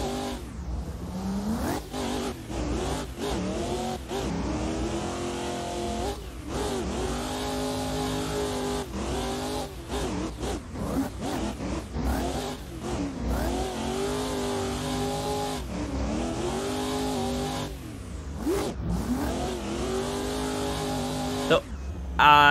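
A BMW M4 G82 race car engine roars and revs continuously in a racing video game driven with a 900° wheel, pitch climbing and dropping through repeated gear shifts and lifts, loud and close, with brief lulls under occasional talk.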